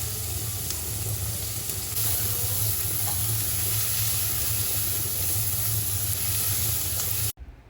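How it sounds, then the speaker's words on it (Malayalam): Onion sizzling in melted butter in a pan, a loud steady hiss and crackle of frying that continues without a break, close by, then cuts off abruptly at the end. "ബട്ടർ ഒന്ന് മെൽറ്റായി വരുമ്പം അതിലേക്ക് ഉള്ളി ഇടുക."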